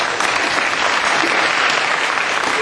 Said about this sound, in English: let's give him a hand one more time